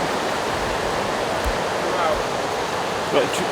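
A mountain creek flows with a dense, steady broadband rush, close and constant throughout, with only faint scattered bumps over the water noise.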